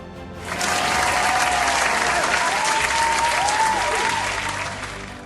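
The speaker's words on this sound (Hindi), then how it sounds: "जोरदार तालियों के साथ स्वागत कीजिए" An audience at a gospel singing competition show gives loud, sustained applause to welcome a judge onto the stage. It swells quickly, holds steady with a faint tone over it, then eases off.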